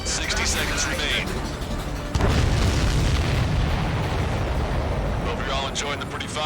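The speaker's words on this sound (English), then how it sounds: "Hope you're all enjoying the pretty fireworks." Explosions in the combat flight video game Ace Combat 7, a sudden heavy boom followed by a long rumbling roar of blasts and debris, loud and sustained, with radio-style voices talking over it.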